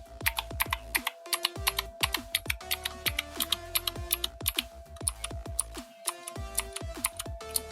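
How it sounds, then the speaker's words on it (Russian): Clicky blue switches on a Bloody mechanical keyboard typed in quick, uneven bursts of sharp clacks, close and alone with no talking. "я чуть не забыл вам показать, как же звучат эти синие свитчи"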